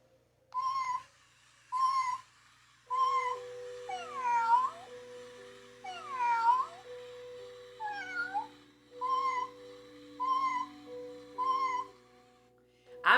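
Around a dozen short meows repeat at a steady, evenly spaced rhythm, some more drawn out, over quiet sustained tones, with no talking.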